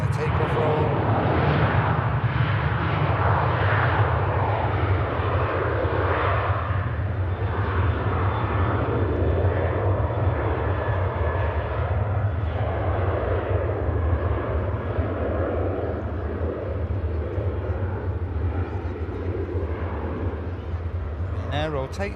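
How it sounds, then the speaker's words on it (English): Ryanair airliner jet engines on the takeoff roll at an airport, a steady loud roar with a deep rumble that holds for the whole stretch, heard from a spotting position. "Ryanair just on the takeoff roll."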